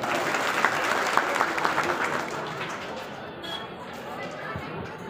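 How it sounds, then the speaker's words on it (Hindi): Loud applause from a large crowd gathered for a Satnam shobha yatra procession in Mungeli, a dense continuous clatter that thins slightly toward the end, with voices mixed in. "आप सबके एक बार जोरदार ताली के साथ सम्मान कर"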